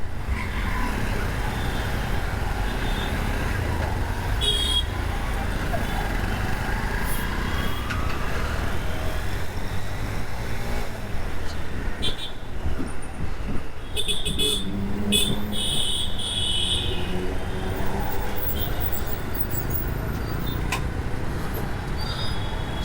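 Busy road traffic streams past with engine rumble and several short car horn toots scattered through, heard continuously from within a vehicle in the flow.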